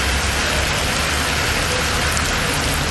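Heavy rain falls across Vellore district, a loud, continuous, dense roar of downpour with no pauses and no voices.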